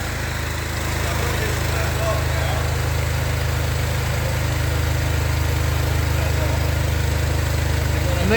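An engine runs at a steady idle on a thunderstorm generator setup, a constant droning hum with no change in pitch or level throughout.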